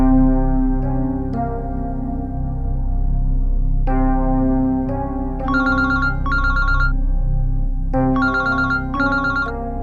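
A phone ringtone plays repeatedly, electronic melodic tones in bursts over a sustained background chord, loud and close with no talk.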